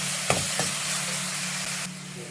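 Masala paste is stirred into fish curry in a hot pan, giving a steady, close sizzle of frying with a couple of brief scraping stir sounds, and no talking.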